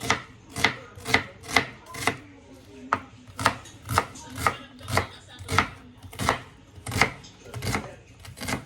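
Onion is chopped with steady, evenly spaced knife strikes, about two per second. The chopping is close and crisp throughout, with no voices.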